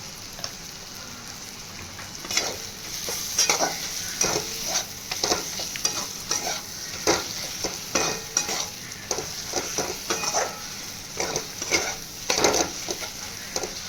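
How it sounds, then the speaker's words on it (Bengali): Cumin and coriander powder dry-fried in a pan on a low flame for arhar dal, with a steady close sizzle and repeated scraping strokes of stirring. "জল দেওয়া যাবে না এরকম শুকনো শুকনোই ভাজতে যাবেন ফ্লেমটা কম করে"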